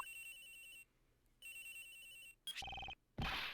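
A cell phone rings in the Ace Attorney Investigations video game, with two loud bursts of a bright electronic ringtone separated by a short pause, then a few sharper chimes near the end. No one speaks.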